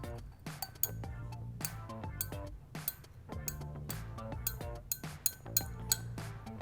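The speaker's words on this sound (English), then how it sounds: "I'm just going to use my glass stirring rod here to help aid get the rest out" A glass stirring rod clinks repeatedly against a glass container while mixing a vitamin E oil blend for a homemade muscle-soothing oil, sharp close-up pings in an irregular rhythm over low background hum.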